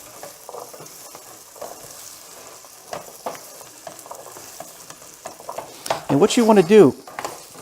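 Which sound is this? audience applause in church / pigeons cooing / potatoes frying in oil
potatoes frying in oil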